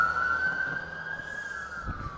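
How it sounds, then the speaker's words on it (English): An ambulance siren wails close by as it passes a pedestrian walking through a city street, a steady loud tone that sweeps and fades over a couple of seconds with traffic noise underneath. "Did he have to set off his siren just as he went by my right ear?"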